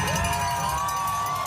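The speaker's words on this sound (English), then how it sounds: "People are cheering." A crowd cheers as an athlete crosses a finish line, a steady roar of many voices with whoops and shouts, continuous and fairly distant across the whole stretch.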